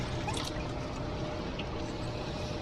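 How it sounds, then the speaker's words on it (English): Water pours into a styrofoam container of dry ice, making a soft, steady trickling and bubbling hiss that stays faint and continuous throughout. "There we go, add some water."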